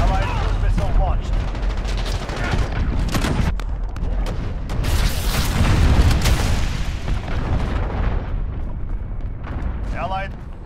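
Cruise missile strikes explode in Call of Duty Modern Warfare, rolling heavy booms and blasts with crackling debris and gunfire layered over them, loud and dense throughout while voices call out across the battlefield.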